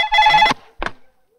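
Telephone ringing with a bright electronic trill, then a short second burst after a brief gap, close and clear in a comedy scene.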